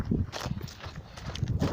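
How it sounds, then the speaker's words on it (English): A horse on a farm moves close by, with a run of uneven hoof clip-clops and shuffling over wind noise, brief and fairly loud. "Here's a horse."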